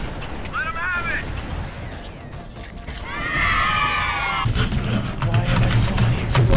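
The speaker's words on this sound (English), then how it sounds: "Why are there so many explosions?" Loud, rumbling explosions and crashing effects in the video game Halo: Combat Evolved build up over the clip, mixed with talking and other chaotic noise.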